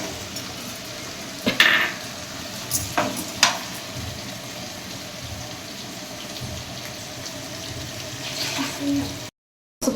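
Brinjal pieces soaked in salt water and raw mango pieces tossed into a pan and stirred for a curry, wet sizzling with a few sharp clanks of a spoon, close, with faint background hiss.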